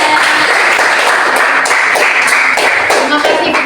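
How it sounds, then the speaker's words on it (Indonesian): Applause from a classroom audience after a student group's presentation, dense and steady clapping that fills the whole stretch at close range, with some shuffling mixed in. "Beri tepuk tangan yang meriah"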